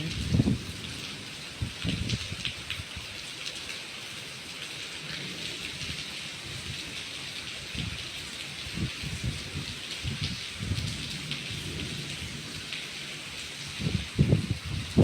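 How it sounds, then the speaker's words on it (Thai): Heavy rain pours steadily onto a temple pavilion during a storm, a constant broad wash of drops with occasional low rumbles and thumps throughout. "รู้สึกว่าจะตกแรงขึ้นกว่าเดิมด้วยฝน"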